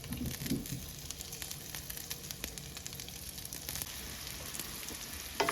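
Breakfast sausage crumbled into a greased pan fries with a steady, close sizzle and crackle, scattered pops and light stirring scrapes running throughout, with no talking.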